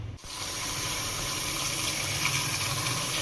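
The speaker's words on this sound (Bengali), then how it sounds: "সকাল সকাল বাজারে গিয়ে মাটন নিয়ে এসেছি। এবার খুব ভালো করে ধুয়ে নেব।" Raw mutton is washed under running water from a tap: a steady, close rush of flowing water with faint mechanical rattling, continuous throughout.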